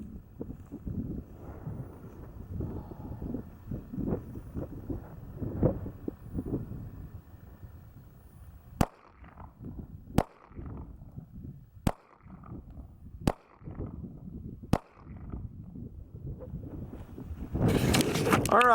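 Five sharp shots from a Sig P320 pistol in .40 S&W at an outdoor range, evenly spaced over several seconds amid wind noise, with quiet talk before and after.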